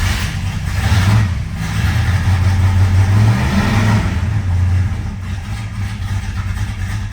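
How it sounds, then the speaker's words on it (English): A 1971 Plymouth GTX muscle car with a big engine starts from cold after sitting overnight, settling into a loud, close, lumpy idle that swells with a brief rev before easing down. "Nice cold start there."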